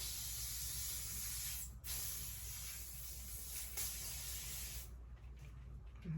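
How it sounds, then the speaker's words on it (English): Continuous hairspray hissing close up as it is sprayed on hair for several seconds from a malfunctioning can, with a brief pause midway and a softer tail at the end. "my hairspray gets some malfunction. I spray it all over again."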